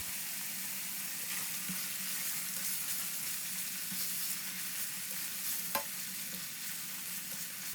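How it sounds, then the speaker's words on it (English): Meat sizzles steadily in a hot pan for Thai pad krapow while a utensil stirs it, with occasional scrapes and a sharp clink near the end, close and unbroken. "Fry the meat until it's cooked and add the salt."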